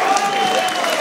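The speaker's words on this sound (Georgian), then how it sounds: "და დაგივად იმსახურებენ აპლოდისმენტებს" Audience applause at a billiards grand prix semifinal and final, a steady, dense wash of clapping filling the whole second without a break.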